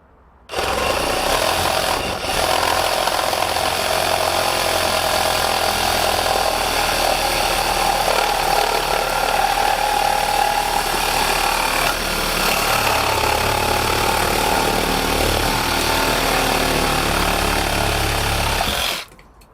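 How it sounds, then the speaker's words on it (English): A saw fitted with a DeWalt metal-cutting carbide-tip blade cuts through old, cracked two-inch cast iron pipe, a loud, steady grinding whine that runs almost twenty seconds before stopping abruptly, with no talking. "So here we go with the DeWalt metal carbide tip blade."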